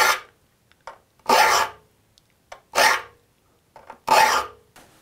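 A file rasps across the teeth of a crosscut hand saw in short, separate strokes, about four strong passes with lighter scrapes between them, close and clear with no talking.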